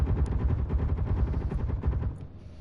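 Airship weapons in a video game fire in a dense, continuous barrage of rapid booming shots. The rumbling volleys stay loud and close, then begin to thin toward the end.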